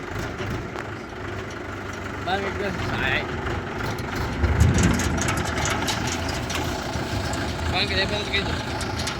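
A tractor engine runs at a steady, low, rumbling idle close by, with talking and other voices over it.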